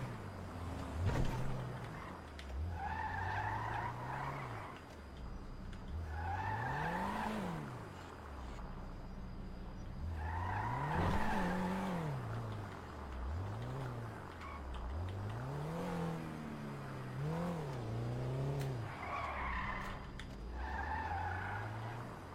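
Engine revs rise and fall repeatedly while tires squeal in bursts of skidding, a video game car driving hard through turns at moderate loudness.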